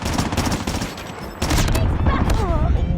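Rapid bursts of Chicom gunfire in the mobile shooter Call of Duty Mobile crack in quick succession, loud and close, with scattered game effects around them.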